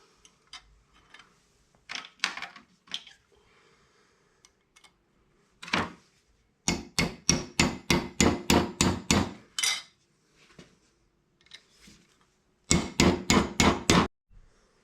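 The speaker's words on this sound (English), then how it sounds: "we're going to finish up driving this dowel down and then punch it in with the dowel pin" A steel dowel pin driven down with a hammer while working on a Tesla-powered 1940 Chevy: scattered taps at first, then a steady run of sharp, evenly spaced metallic strikes, a pause, and a final quick burst of blows.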